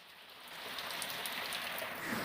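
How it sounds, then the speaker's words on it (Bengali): Steady rain falls continuously as a dense, even hiss of drops on surfaces, alone and unbroken. "সকাল থেকে বৃষ্টি হয়েই যাচ্ছে"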